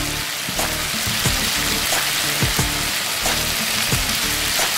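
Potato and egg fry with turmeric in a pan, giving a steady, loud, close sizzle with scattered pops and crackles. Faint background music runs underneath.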